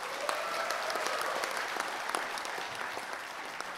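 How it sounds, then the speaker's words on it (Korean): Steady applause from an audience filling a hall during a national assembly debate on founding a medical college in South Jeollanam-do, dense, even clapping sustained throughout without speech. "먼저 이분들에게 큰 박수 부탁합니다"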